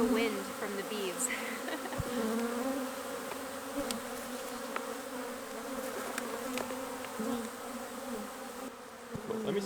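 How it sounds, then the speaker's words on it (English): Dense swarm of honeybees buzzing steadily around their hives, a continuous close droning hum with individual bees zipping past near and far, no talking. "I'm totally in awe right now of these bees and the sound"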